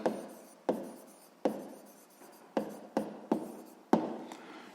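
Pen writing a math solution on paper, a series of short scratching strokes with distinct onsets each fading away, close and quiet, with no talk.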